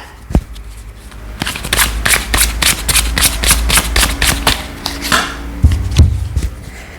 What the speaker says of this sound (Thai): ขอสับสดๆดูพลังงานกันนะจ๊ะ